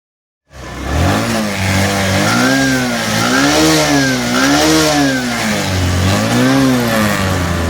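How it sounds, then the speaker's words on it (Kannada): A BS6 single-plug Bajaj CT100 motorcycle engine starts, then revs continuously and loudly up and down in repeated rising and falling surges, close by, with no talking. "ನೋಡಿ, ಗಾಡಿ ರೈಸ್ ಆಗಿದೆ."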